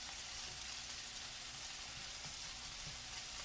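Onions sizzling in a non-stick skillet give a steady, dense crackle and hiss that runs unbroken throughout, close and fairly loud, with small pops scattered through it.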